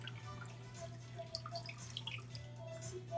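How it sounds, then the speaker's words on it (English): Lemonade trickles into a cocktail glass over a tequila pour, soft quiet drips and splashes over a low steady hum, with no talk. "then just go ahead and pour your lemonade"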